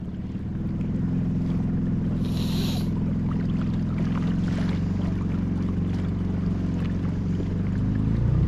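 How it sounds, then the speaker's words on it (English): Boats passing on a salmon river, a steady low engine drone that swells in the first second and then holds, continuous and moderately distant, with soft water and wind noise behind it. "3 boats, right? They're probably going through here full bore."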